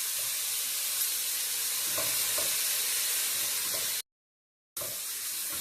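Two medium onions fry with salt in a pan, giving a dense, steady sizzle with occasional stirring scrapes, continuous and close apart from a brief full cut to silence.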